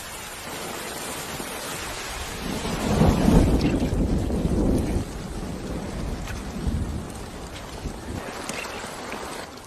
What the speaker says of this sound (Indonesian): Mendengar suara guguludugan yang menandakan akan segera hujan